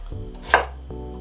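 A knife chops chow chow into small pieces on a board, one sharp close cut landing in the middle of a quiet stretch with a low steady hum underneath and no voices.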